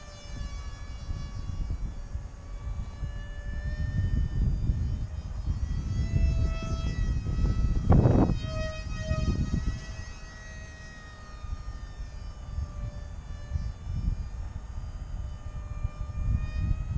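A Flite Test pizza box RC plane flies with a steady electric motor whine under continuous wind rumble, the pitch rising and falling as it passes, with a brief louder swell midway.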